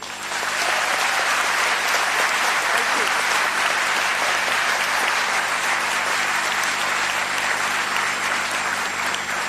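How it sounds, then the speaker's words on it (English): A school audience at a cultural festival gives sustained, thunderous applause, a broad, even roar of many hands clapping for close to ten seconds, loud and full with a faint crowd murmur beneath. "I want to hear a thunderous applause from all of you"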